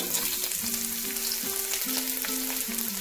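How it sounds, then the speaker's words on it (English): Garlic frying in olive oil in a pan gives a dense, constant sizzle, close and fairly loud, with faint stirring clicks underneath and no voices. "I'm just gonna fry the garlic"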